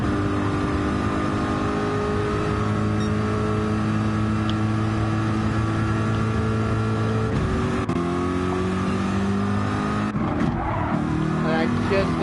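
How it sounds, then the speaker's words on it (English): Race car engine droning in a racing video game, a steady loud hum with a pitch shift partway through, running under a voice talking. "See, you can still hear your engine playing."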